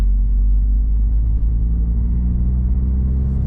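A 4th-gen Mazda3 fitted with a CorkSport axleback exhaust cruises casually, giving a steady, deep, low rumble heard from inside the car, with no talk over it.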